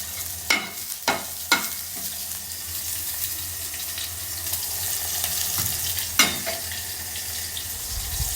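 A spoon stirs okra vegetable frying in a pan, producing a few sharp scraping clinks over a soft continuous sizzle, with the stirring strokes clustered early and another near the end.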